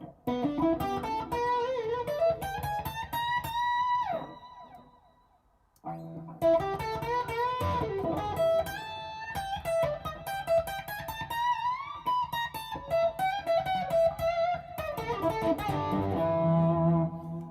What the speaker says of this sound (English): As I bring the reverb in,